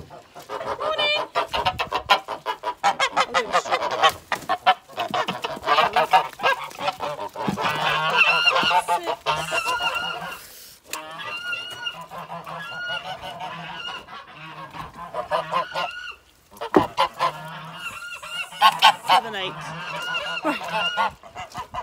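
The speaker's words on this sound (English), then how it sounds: "Just gonna let the geese out a minute." Loud, busy honking and clucking from a flock of geese and fowl being let out in the morning close by, continuous calls overlapping throughout with a few brief pauses.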